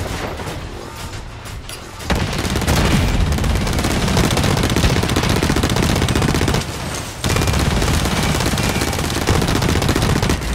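Sustained automatic gunfire and explosions from the video game Blacklight Retribution, dense and loud almost throughout, with a brief drop near the start and a short pause before the bursts resume.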